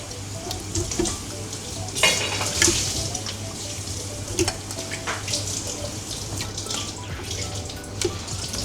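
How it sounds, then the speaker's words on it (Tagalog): Beef being fried with garlic and onion while cooking nilagang baka: a steady close sizzle with clinks and scrapes of stirring and brief bursts of running water from a tap. "Lagay tayo ng konting bawang, sibuyas. Then, ilagay natin yung karne."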